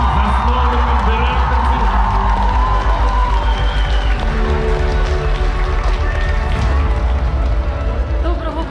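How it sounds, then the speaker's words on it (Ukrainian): An audience at a 2024 school graduation applauds and cheers for the teachers: a loud, dense, continuous wash of clapping and crowd noise that holds steady for the whole stretch. "Овації вчителям."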